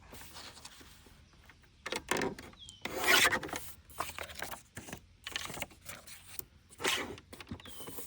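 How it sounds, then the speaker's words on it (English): A ripped edge of an old book gets trimmed, with close, dry rasping and rubbing strokes in uneven bursts of varying loudness and short pauses between them, and no talking. "let's give this a trim right here because that's the side I ripped out"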